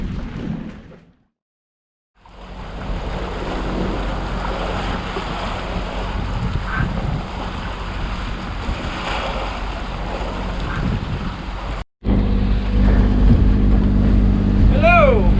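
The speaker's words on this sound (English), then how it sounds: "And we've just got one motor on at the moment, and Dylan's put the head sail up." A single motor drives a sailboat at sea by night, a steady engine drone blended with wind buffeting and wave wash, briefly dropping out twice before resuming louder.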